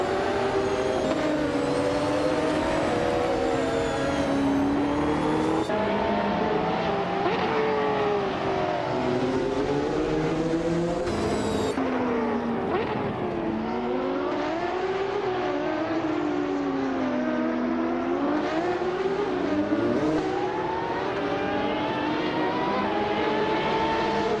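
Race cars in a racing video game scream past in a tight pack, their engine whines rising and falling as they weave and shift, loud and continuous throughout with no talk.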